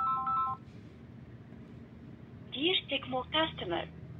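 Electronic tones from a mobile phone signal an incoming call, a short run of steady beeps at the start, followed by a quieter pause and then a clear automated-sounding voice.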